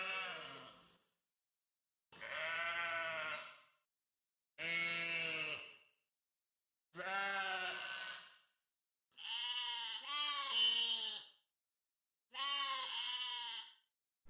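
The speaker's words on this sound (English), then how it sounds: "compare the sheep sounds in the source files to the ones in the actual game." Sheep bleats from the video game Besiege, six separate drawn-out, wavering calls spaced a second or two apart with silence between them, clear and close.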